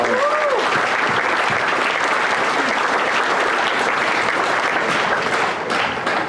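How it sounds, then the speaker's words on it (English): Sustained, loud audience applause at the Minnesota State Fair FFA awards, a dense crowd clapping steadily throughout, with a brief voice audible at the start. "Let's give them another round of applause"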